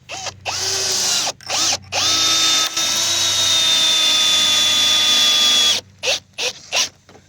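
A power drill drives screws into raised garden bed boards, whining in long sustained bursts with brief stops and short quick pulses between, loud and close.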